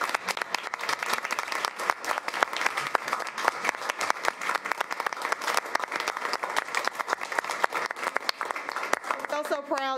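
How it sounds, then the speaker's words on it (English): A school board meeting audience applauds, many hands clapping in a lively, crisp patter that carries on steadily before a voice begins to speak near the end. "give them a round of applause for their great work"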